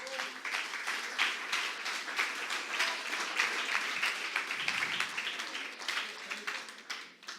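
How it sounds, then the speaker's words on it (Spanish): A church congregation gives a king a round of applause, a dense, steady wash of many hands clapping that runs the whole time at moderate level before thinning out near the end. "¿Me puede darle un aplauso al Rey si puede?"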